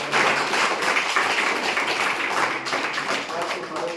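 Audience applause at a government school in Macharla, welcoming the local MPP as a guest at a Rotary Club of Armoor event: dense, steady clapping that fills the whole stretch, with voices mixed in.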